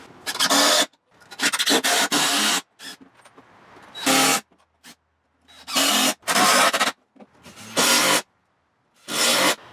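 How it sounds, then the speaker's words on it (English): A Porter Cable impact driver runs 2.5 inch screws in repeated bursts, each a loud rattling hammer lasting about a second, separated by short silences, close up with no talk. "the object of this test is to run these impact drivers until they stop screwing in screws"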